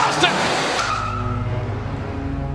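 A car skids and runs over wrestler Steve Austin at a WWE event, a loud tire screech and engine roar that fades into a steady rumble, with a shouting crowd and voices mixed in.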